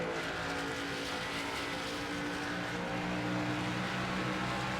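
Race car engines in the NASCAR 25 video game drone in a steady, dense roar, a continuous loud wash of revving cars running close together with no voices.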